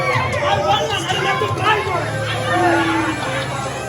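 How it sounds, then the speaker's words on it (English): A wrestling crowd voices displeasure in an arena, a steady, loud murmur of many voices with scattered shouts and a sustained jeering tone beneath it. "this crowd voices their First Amendment rights, their displeasure with the Cult of Nothing"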